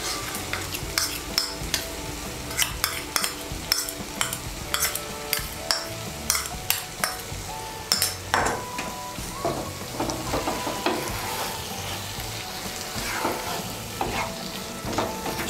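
A paste of ground mustard and poppy seeds with green chillies fries in a pan while a spoon stirs it, close up, with steady sizzling under a dense run of rapid metallic scrapes and clinks, no talk.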